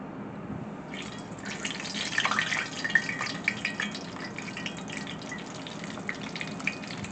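Deviled eggs deep frying in hot grease, a steady crackling sizzle with scattered bubbling pops that swells slightly midway and holds, close and even, with no one talking.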